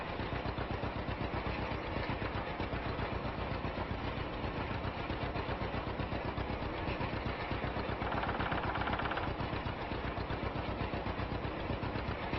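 A 1949 John Deere A tractor rolls wheat in Farming Simulator 25, its engine chugging in a steady, even rhythm that runs loud and close throughout without any talk.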